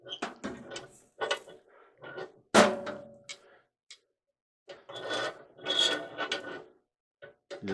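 A Toshiba ML-AC28S 6-in-1 multifunction microwave part being turned gives off harsh, close scraping and grinding in irregular bursts, with short pauses between strokes and no talk.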